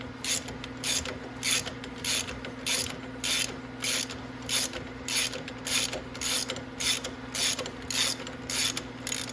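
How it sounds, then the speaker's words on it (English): Ratchet wrench loosening bolts on a Venom 1500W E-Grizzly electric ATV, a steady run of about fifteen sharp, evenly spaced clicking bursts at close range over a low mechanical hum, with no talking. "if I'm using a ratchet like this, I want to prop my wrench somewhere"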